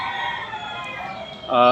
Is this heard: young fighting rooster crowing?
yes